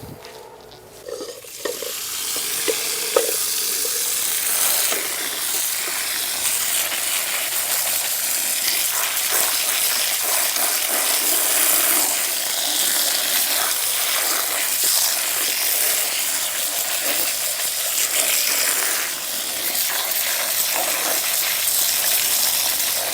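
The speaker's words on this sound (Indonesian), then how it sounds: "Kemudian bahan ini kita akan cuci." Sembung legi plant leaves are washed in water, producing a steady, loud rush and splash of running water with sloshing and rustling throughout.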